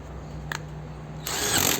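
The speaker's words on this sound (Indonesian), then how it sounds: "Kita pakai impact driver yang RPM nya lebih tinggi, kita coba hajar." A high-RPM impact driver drives a screw through a telescopic extension bit, a sudden harsh, rattling burst that starts after a quiet hum and lasts about half a second.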